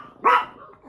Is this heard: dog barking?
yes